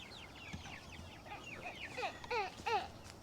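Chickens on pasture cluck and chirp softly, several birds calling in short repeated bursts, growing a bit louder toward the end.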